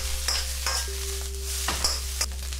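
Cantonese fried rice being stir-fried with soy sauce as a spatula breaks up clumps of rice, a close steady sizzle with a few sharp scraping strokes against the pan and no talk.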